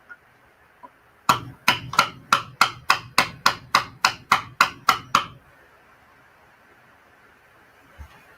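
A hammer whacks a lock in a rapid run of about twelve sharp, evenly spaced metallic blows, close and loud, followed by quiet and a faint thump near the end; no one talks.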